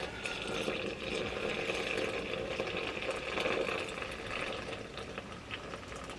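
Water pours steadily into a bowl of flour for bread dough in a home kitchen, a continuous close splashing and filling sound with no talk.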